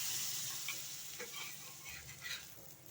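Kulcha frying in butter on a pan gives a quiet, even sizzle with light crackles and faint pops, close but soft.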